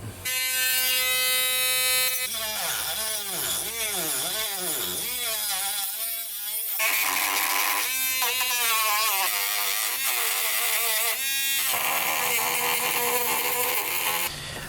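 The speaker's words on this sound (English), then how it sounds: "we're going to go ahead and take our rotary tool and we're going to go ahead and clean all this up, sand it down" A rotary tool sands cured resin and fiberglass on a Sea-Doo XP Limited hood, a loud close buzzing whine whose pitch keeps rising and falling with pressure, interrupted by a brief pause, continuous throughout.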